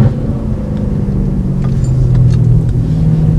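A V8 car engine runs with a smooth, deep rumble, heard steadily from inside the moving vehicle with a low droning hum throughout.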